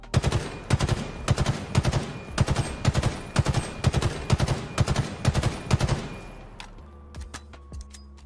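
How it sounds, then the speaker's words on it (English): Battle rifle from Halo 2 firing in repeated three-round bursts, sharp and loud with a steady rhythm over about seven seconds, then ending with a few mechanical clicks and a low hum. "of this would be the Halo 2 battle rifle. Here's a listen to that."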